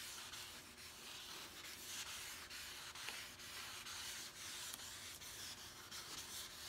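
Steady, continuous rubbing and scraping of 1200 grit sandpaper being worked over fresh automotive clear coat on a car fender, close and even in loudness with no talk.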